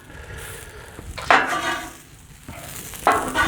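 Soba noodles and vegetables sauté on a Blackstone griddle, with steady sizzling broken by two bursts of scraping and stirring from a spatula against the flat-top.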